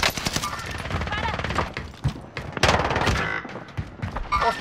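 Rapid automatic gunfire and scattered shots crackle in Call of Duty: Modern Warfare, loud, dense bursts alternating with brief lulls while soldiers shout over the combat.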